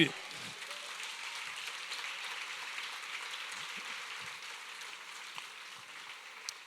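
A church congregation applauding: steady, even, broadband clapping that holds at a moderate level throughout, with a faint voice heard briefly at the start.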